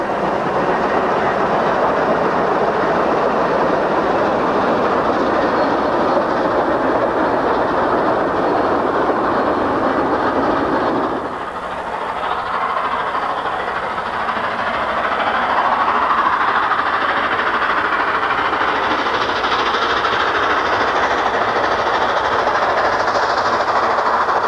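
Southern Pacific 4449 steam locomotive rolls along with loud, continuous rumble and rail noise, briefly dipping midway before the steady roar resumes.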